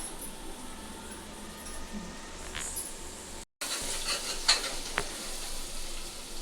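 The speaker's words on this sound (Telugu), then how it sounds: "మగ్గించుకున్నామండి ఉల్లిపాయలు" Onions sautéing in a pan for a Sunday chicken curry, a steady close sizzle with scraping stirs and a few sharp clinks of a spoon, broken briefly by a short silent gap.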